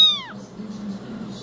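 A cat inside a house lets out one short, loud, falling meow right at the start, then only faint background noise follows.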